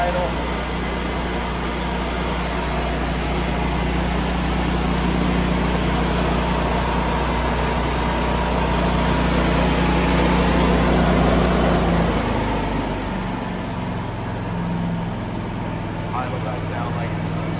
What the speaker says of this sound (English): Miller Trailblazer 325 EFI Welder generator.